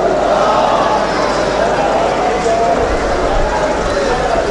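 A large crowd at a Shia majlis religious gathering in Jogipura, Bijnor, India loudly chants salawat in unison, a continuous, booming mass of voices filling the whole stretch.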